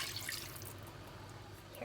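Two cups of water are poured over rice in a pot for steak pot rice, a soft, close splashing pour with trickling and bubbling that continues through the whole short moment.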